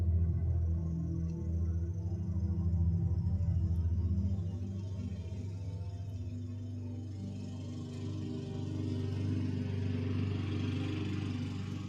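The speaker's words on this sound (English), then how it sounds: "You are mowing the lawn right now?" A lawn mower runs nearby with a continuous, droning engine hum that wavers slightly in level but never stops.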